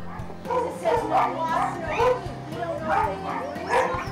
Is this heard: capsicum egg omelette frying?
no